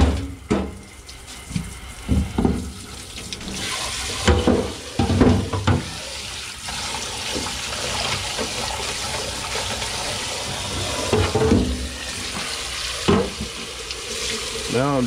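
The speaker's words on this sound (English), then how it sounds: "Now I'm just rinsing these fillets off real good." Catfish fillets being rinsed under running water from a tap, with a steady splashing flow and occasional louder gushes and clatters throughout, and no talking.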